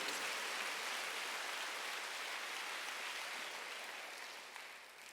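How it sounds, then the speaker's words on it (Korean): A church congregation at a Wednesday worship service claps together in a dense, steady wash of applause that holds for several seconds and slowly fades toward the end. "깨달은 사람 한번 크게 박수 쳐보세요."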